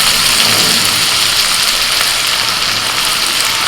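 Chopped onion, garlic and ginger fry in a hot pan, giving a loud, steady sizzling hiss that fills the whole moment without a break, with no talking over it.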